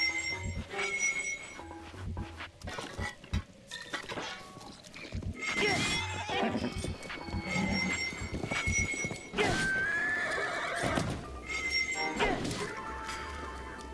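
Horse in Zelda: Breath of the Wild neighing several times amid galloping hoofbeats, with crashes, clanks and chimes from combat mixed in, fairly close and busy throughout.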